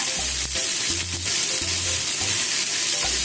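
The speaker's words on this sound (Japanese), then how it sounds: "芋の粒をごま油で炒めます。" Blanched sweet potato stems stir-fry in sesame oil with a loud, continuous close-up sizzle, steady and crackling from start to finish.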